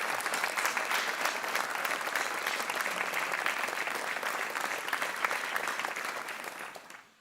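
Studio audience applause on a Portuguese television quiz show: dense, steady clapping from many hands that holds evenly for several seconds, then tapers off quickly at the end.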